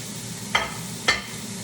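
Cauliflower rice cooks in a pan with a steady low sizzle, punctuated by two quick stirring scrapes about half a second apart, close and clear without speech.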